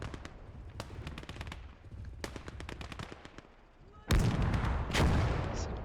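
Machine gun fire from the WWII strategy game Gates of Hell rattles in sharp repeated bursts, joined near the end by heavier, louder blasts of gunfire and explosions in a dense battlefield mix.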